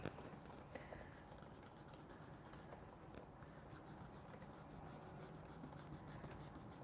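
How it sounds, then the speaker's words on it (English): Steady, faint scrubbing of a kneaded eraser rubbed back and forth on paper to lighten a sketch for a painting, a continuous soft rasping texture without pauses or voices. "I'm just using a kneaded eraser to lighten it up."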